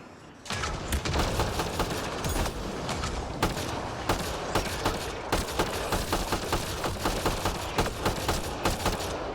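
Rapid automatic gunfire from a video game weapon, a long run of loud, evenly spaced sharp shots starting abruptly after a short quiet lead-in.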